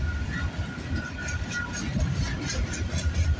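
Freight train on the north track near Bartlett Avenue in Toronto, a continuous rumbling roll of railcars with rhythmic clatter, fairly close and steady throughout the short stretch.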